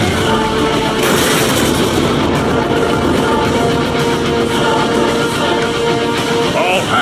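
Gunfire rakes the tow cables in Transformers: Fall of Cybertron, a dense stream of rapid shots and booms layered over the constant rumble of a battle.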